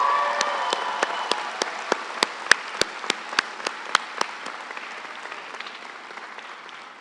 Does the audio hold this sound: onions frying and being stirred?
no